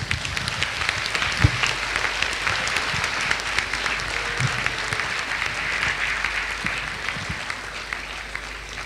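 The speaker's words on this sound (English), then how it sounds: "Let us congratulate them with a loud round of applause" Sustained applause from a large audience at a medical college convocation for graduating allied health students, a continuous dense clatter of clapping with occasional sharper individual claps, heard at moderate distance.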